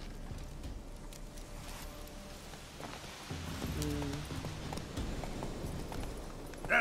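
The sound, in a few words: horse hooves in The Witcher 3 video game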